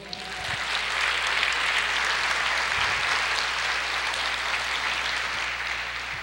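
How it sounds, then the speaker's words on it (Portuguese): A church congregation applauds the Lord during a sermon: broad, sustained crowd clapping that swells in the first second, holds steady, then eases slightly toward the end, with no voices on top. "Você pode aplaudir o Senhor?"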